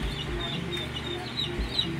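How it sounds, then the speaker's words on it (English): Newly hatched chicks inside a home-made incubator give thin, high peeping chirps in a steady scatter, close by over a low continuous hum. "newly hatched chicks here"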